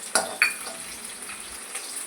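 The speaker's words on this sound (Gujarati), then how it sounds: "લસણને ધીમા તાપે તળાવીશું." Garlic and green chillies fry in hot oil over a low flame, giving a steady close sizzle broken by a couple of sharp utensil clinks.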